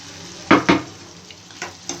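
A pan of Andhra-style chicken pepper fry is stirred: two sharp, close scraping strokes, then three lighter ones over a low background hiss, with no voices.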